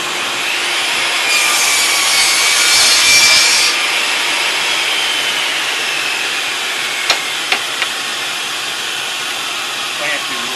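A saw cuts clamped wood segments for a segmented wooden bowl, giving a steady, fairly loud whirring rasp that runs the whole time, with a few sharp clicks near the end.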